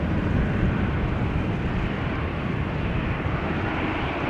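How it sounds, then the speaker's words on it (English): Aircraft engines roar continuously at Amsterdam Schiphol Airport on a rainy, wet day with a south wind, a steady broadband rumble and howl holding level throughout with no talking. "lots of engines howling and growling today"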